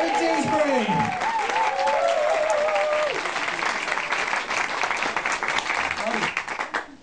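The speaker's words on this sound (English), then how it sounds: "Everyone join in with the applause." Audience applause at a comedy night at The Cube Cinema in Bristol, dense steady clapping filling the room for about seven seconds, with a host's voice talking and whooping over the first three seconds before the clapping carries on alone and tapers off.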